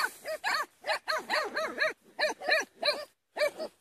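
A puppy gives a rapid string of high yips, barks and whimpers at close range, in short bursts with brief gaps.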